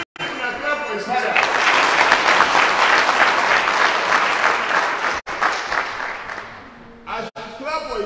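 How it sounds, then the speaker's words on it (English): A crowd of voters at a political meeting breaks into loud, sustained clapping, which swells and holds for several seconds and then thins out, with someone speaking before and after it. "As you clap for his father, now some people clap for you."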